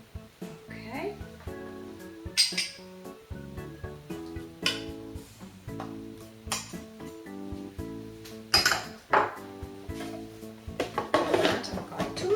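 Butter being mixed into a baking mixture in a bowl, heard as repeated clinks and scrapes of a utensil against the bowl over a steady music bed, with a few louder knocks and rattles.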